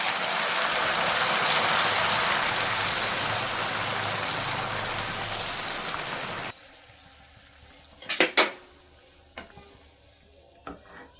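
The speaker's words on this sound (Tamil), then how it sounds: "இப்போ குழம்பு எடுத்து ஊற்றிக்கலாம், கரண்டில் எடுத்து ஊற்றிக்கலாம்." Sambar gravy made with drumstick leaves and dal is ladled onto onions frying in a pan, giving a steady loud sizzle. The sizzle then quiets sharply, and a few spoon clinks and scrapes follow.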